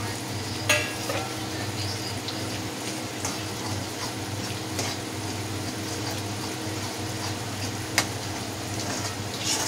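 Masala spices frying in hot oil in a pan for a Marathi-style fish curry, a steady close sizzle with light stirring scrapes and a couple of sharp clinks, no talking.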